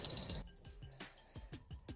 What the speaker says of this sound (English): So obviously the timer's going off